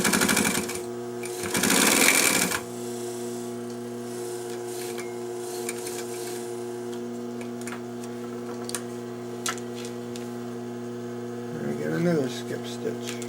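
A Singer 95-1 industrial sewing machine with a rotary hook, stitching with a steady rhythmic ticking and hum after a brief louder burst, with a person speaking at times.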